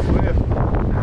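Strong headwind on a whitewater river in spring flood buffeting the microphone, a loud low rumbling roar that fills the short moment.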